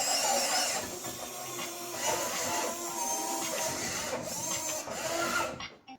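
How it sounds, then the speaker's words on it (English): An RC long reach excavator runs with a continuous whining electric motor buzz, close and steady, shifting slightly in pitch before cutting off at the end. "this is my new RC long reach excavator"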